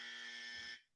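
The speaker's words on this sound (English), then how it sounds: "I'm going to give you the buzzer." A buzzer sound effect, one loud, harsh electronic tone held for under a second before cutting off abruptly.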